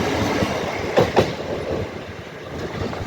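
A train rolls along the rails at Doncaster station, a steady broadband rumble with a couple of sharper rattling bursts near the start, heard close and alone without any voices.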